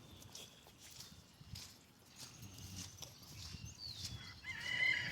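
Chickens on a homestead clucking in a loose, continuous chatter with a few brief bird calls, and a crowing-like call rising near the end over low outdoor rumble.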